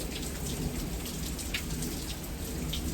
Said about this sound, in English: everything out here is just getting drenched from a straight down hard rain.